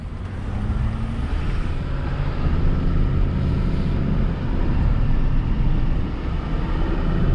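A 2021 Ford F450 Platinum pickup towing a trailer on a hilly highway, with steady loud low engine and road roar and tire noise holding continuously throughout, no talk.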